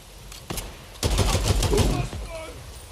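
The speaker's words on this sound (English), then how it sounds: "I guess the assault rifle will be the main weapon in this game." Assault rifle gunfire in the zombie video game Days Gone: a couple of single cracks lead into a dense, rapid burst of shots lasting about a second, loud and close, with voices faintly underneath.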